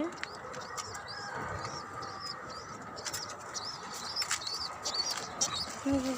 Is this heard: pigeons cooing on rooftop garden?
yes